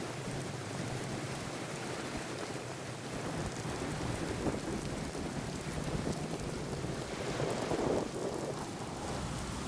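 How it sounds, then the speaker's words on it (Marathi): Steady, continuous rain pouring down, a dense even hiss that holds without a break throughout. "धरण पाणलोट क्षेत्रामध्ये पावसाची संततधारी सुरू आहे"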